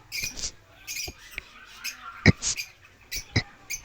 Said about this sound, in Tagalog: Dito sa mga breeder natin mga parakit.